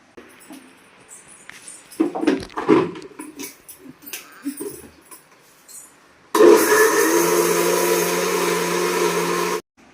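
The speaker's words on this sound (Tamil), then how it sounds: "நான் வந்து கொஞ்சமாக தான் ஊற வச்சேன் அப்படின்றனால வந்து மிக்சிலேயே அரைச்சிக்க போகிறேன்" An electric mixer grinder grinds soaked rice, starting abruptly with a loud steady whirring roar that runs close and unbroken for several seconds, after quieter clinks and handling noises.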